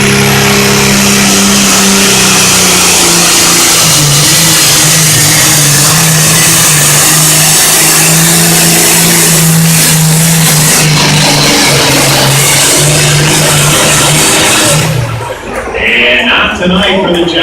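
A John Deere Super Farm class tractor roars at a fairground tractor pull, its engine holding a loud, strained, sustained drone for about fifteen seconds before dropping off abruptly.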